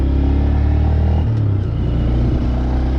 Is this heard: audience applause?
no